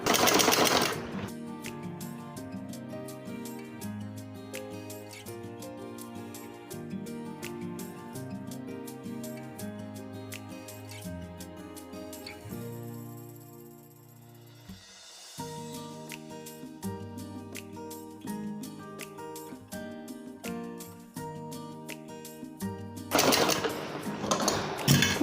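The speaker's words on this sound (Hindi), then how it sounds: "इसी तरह से इसकी भी सिलाई लगा के आनी है ताकि गले में तंग ना पड़े।" Sewing machine stitching a lined suit, running in long steady bursts of rapid needle rhythm, close and fairly loud, with a brief pause midway and no talk over it.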